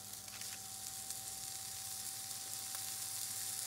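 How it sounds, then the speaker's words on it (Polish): Camembert wrapped in bacon fries on baking paper in a very hot pan, giving a steady, fairly soft sizzle and crackle with a faint constant hum underneath and no talking. "Na mocno rozgrzaną patelnię kładę papier do pieczenia, a na papierze nasz ser zawinięty w boczku"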